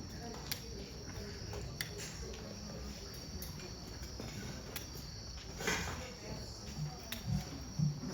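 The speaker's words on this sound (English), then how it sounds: "Now that I'm competing with the crickets" Crickets chirp steadily in a high, continuous shimmer throughout an outdoor evening setting, with faint scattered noises and a brief low murmur near the end.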